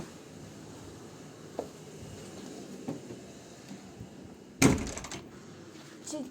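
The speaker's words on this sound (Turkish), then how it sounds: "kapıyı kapatayım" A door shuts with one sharp, loud thud after several seconds of quiet room noise and faint shuffling, followed by a softer knock at the end.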